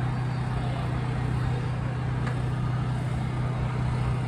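Steady road traffic in Philadelphia by the Art Museum, cars passing in a continuous low engine and tyre rumble with a constant hum, no distinct individual pass-bys.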